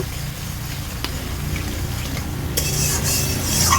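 Spice paste for fish curry, with a little water added, simmers and is stirred in a pan, a soft bubbling hiss with faint scrapes that swells louder in the last second.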